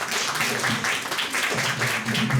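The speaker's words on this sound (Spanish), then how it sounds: "Lo recibimos con un fuerte aplauso" An audience welcomes a speaker at a law institute lecture with a burst of sustained applause, many hands clapping in a dense, even patter for a couple of seconds.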